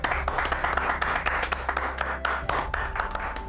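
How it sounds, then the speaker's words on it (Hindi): An audience breaks into applause, a dense burst of many hands clapping together at close to moderate distance that carries on steadily for several seconds. "इस बात पे तालियां तो बज सकती है।"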